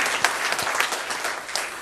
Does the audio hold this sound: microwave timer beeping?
no